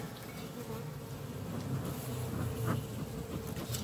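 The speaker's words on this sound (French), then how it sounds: "je vais enfumer un peu pour bouger les abeilles" Honey bees at a hive being smoked by a beekeeper, a soft continuous buzzing hum of many insects close by, with slight swells in intensity.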